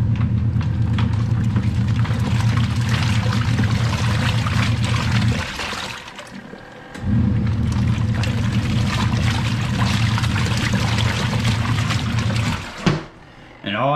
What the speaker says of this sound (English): So it's now washing, detergent's in there, clothes are in there, water's in there.